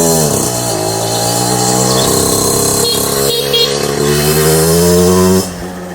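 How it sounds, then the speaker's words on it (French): Derbi Senda X-Treme 50 motorcycle being ridden: the small two-stroke engine revs hard and loud, its buzzing pitch climbing through the gears before easing off abruptly at the end. "on est vraiment sur une petite moto sympa, c'est une très bonne marque Derby"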